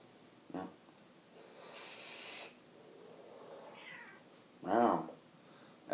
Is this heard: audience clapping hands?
no